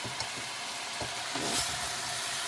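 Browned vegetables being stirred into ratatouille in a hot pan, a steady sizzle and frying hiss with soft scraping and stirring knocks throughout.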